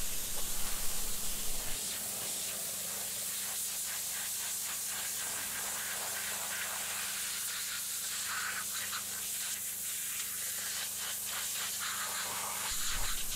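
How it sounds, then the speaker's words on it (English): Compressed air blasting over road sensor surfaces during a Lufft IRS31Pro and ARS31 installation, a close hissing spray in repeated short bursts with a steady low hum beneath. "we once again clean using compressed air to ensure all"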